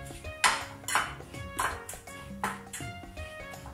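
Stirring a cauliflower and egg mixture for cauliflower burgers, a utensil scraping and ringing against a bowl in about six regular strokes, each a sharp metallic clink with short ring, close and clear.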